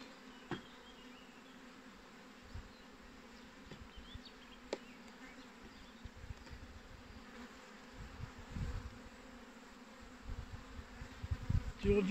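Dense buzzing of aggressive honeybees swarming around an opened hive, a constant close hum with individual bees passing nearby and occasional handling knocks.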